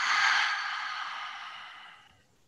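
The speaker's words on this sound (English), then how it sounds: "Hold the breath. And exhale out of the mouth." Long, slow exhale out of the mouth during a Kundalini breathing exercise, one soft airy breath that gradually fades out, close and alone.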